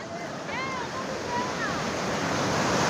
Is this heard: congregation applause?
no